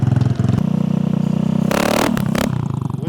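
A scooter engine fitted with nitrous runs close and loud, a pulsing low idle that rises into a brief rev with rattling clatter before settling back down.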